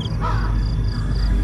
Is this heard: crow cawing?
yes